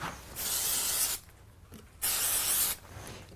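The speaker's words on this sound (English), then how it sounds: "I'm going to use a little bit of spray glue" Two bursts of aerosol spray, each about a second long, a steady close hiss separated by a short pause.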